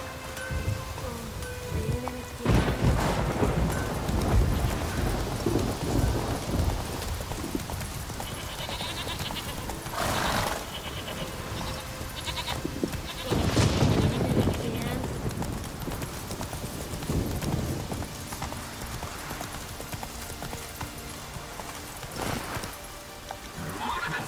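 Roach, the horse in The Witcher 3, gallops with a steady rhythmic clip-clop of hooves throughout. Rain falls and a horse whinnies, with voices in the background.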